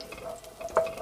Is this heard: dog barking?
no